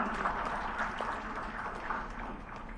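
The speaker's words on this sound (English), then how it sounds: "Can we have a round of applause going?" Steady applause from a crowd at a capital market conference, dense clapping that runs evenly from start to finish at a moderate level.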